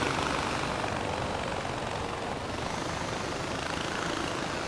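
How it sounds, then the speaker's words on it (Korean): A helicopter being set down in Far Cry 4 gives a steady, dense broadband roar of rotor and engine, constant and fairly loud throughout with no break. "여기다 헬기를 잘 세워놓고"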